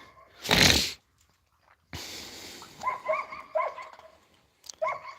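A loud burst of noise, then dogs bark and yelp in short, high calls, several in quick succession, fairly close, with a pause between groups.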